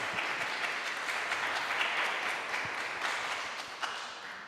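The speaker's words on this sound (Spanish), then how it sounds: "Los invito a dar un fuerte aplauso." Audience applause at a Spanish-language faith conference fills the room, a steady wash of many hands clapping at moderate distance, sustained and fairly even, fading slightly near the end.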